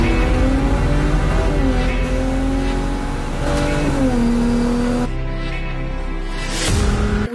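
A toy race car, a yellow Ferrari, revs in a steady droning whine with pitch sliding up and down, close and fairly loud, without talk.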